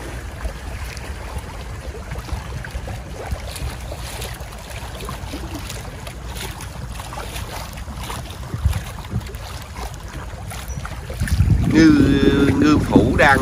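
Choppy waves on a river in the Mekong Delta in the early morning during net fishing, a continuous close wash of water and wind buffeting the microphone, swelling louder over the last couple of seconds.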